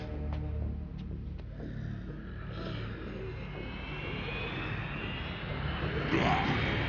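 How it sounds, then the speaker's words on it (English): An aircraft flies overhead in the zombie action game Dead Rising 3. A steady, distant engine roar holds throughout, with a faint tone slowly rising and swelling louder near the end. "After 3 days, there were planes still in the sky."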